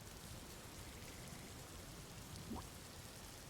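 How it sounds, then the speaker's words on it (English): Steady, heavy rain hissing evenly throughout as a tabletop-game sound effect, with a faint low rumble of thunder rising briefly near the end. "heavier rain, some thunder."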